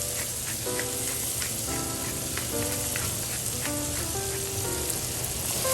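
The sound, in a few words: onion and celery sizzling in pan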